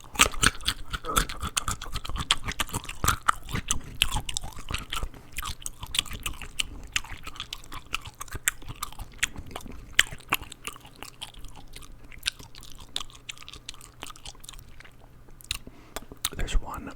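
Close-miked ASMR eating of crunchy food, with steady, dense crunching and biting bites packed one after another and soft mouth sounds in between throughout.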